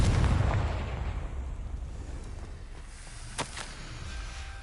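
A Confringo blasting spell goes off in a video game, a loud burst that leaves a rumbling wash and ends with one sharp crack near the close.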